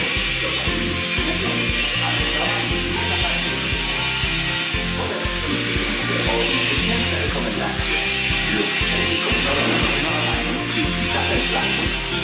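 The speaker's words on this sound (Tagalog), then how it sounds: "Hinihinang po, hinihinang." A welder works on a metal roof sheet, producing continuous loud, crackling broadband hiss with a rough, rhythmic low rumble underneath, unbroken for the whole stretch.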